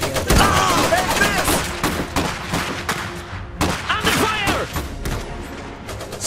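Dense battlefield gunfire from the dieselpunk strategy game Iron Harvest, with rapid rifle and machine-gun volleys crackling continuously and loudly, punctuated by sharper bursts, alongside game chatter.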